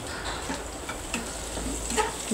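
Boiled potatoes frying in oil with browned onions give a soft, fairly faint sizzle, broken by a few light clicks and ticks from stirring.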